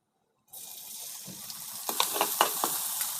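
Sudden loud sizzle as chillies drop into hot oil in a pan, settling into steady frying crackle with a few louder pops and stirring scrapes.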